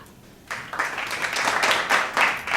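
An audience claps and applauds at a late-night talk show style taping, a burst of many hands starting abruptly and swelling steadily.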